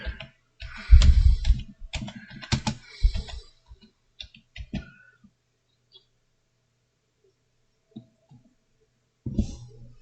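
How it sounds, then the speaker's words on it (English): Bursts of clicky keystrokes on a computer keyboard come in quick clusters during the first few seconds, then thin out into sparse taps with near silence between them. "What we're going to do is we're going to type it in the right way."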